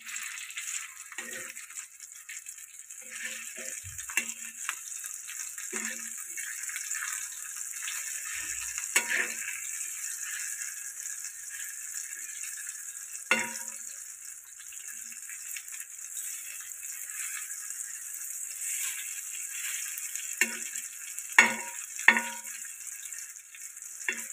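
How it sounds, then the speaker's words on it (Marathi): Baby shark (mushi) fish frying in a pan as the pieces are flipped, a steady close sizzle with a few clatters and scrapes of the turner against the pan, no talking. "काढूया आता आणि परत पलटी करूया आपण."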